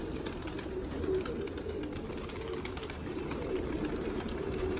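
Colored pigeons returning to their loft as darkness falls give soft, repeated coos over a steady low background hum, at moderate distance, with no one speaking.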